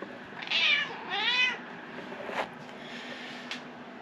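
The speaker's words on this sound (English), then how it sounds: "meowing." A pet cat meows inside an RV, giving two drawn-out, fairly close meows in quick succession before fainter sounds over a steady background hum.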